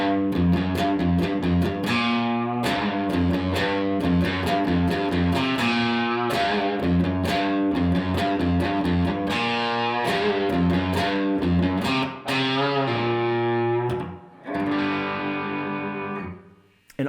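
Distorted electric guitar plays a main riff slowly, a dense continuous run of chugging notes with an occasional string bend, loud and close with no talking.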